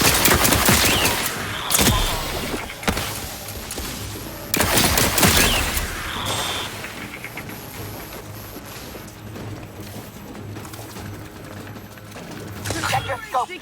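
Gunfire from The Outer Worlds 2 erupts in loud rapid bursts at the start and again midway, then thins to sporadic shots over a low rumbling backdrop with game sounds.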